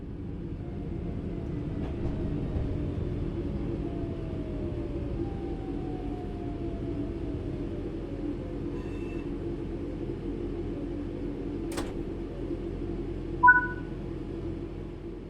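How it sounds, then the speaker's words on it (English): A train in Train Sim World 5 rumbles steadily and slows under the power brake, with faint squealing brake tones sliding downward and a brief sharp clank near the end. "Bring this train to a complete stop by moving the power brake handle into the braking range."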